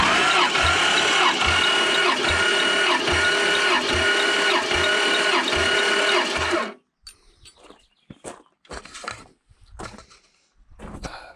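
A 1993 Fox Mustang engine cranks steadily on its starter, turned over by shorting across a bad solenoid, with a loud, rhythmic whirring chug lasting several seconds. It stops abruptly and is followed by scattered clicks and handling noises.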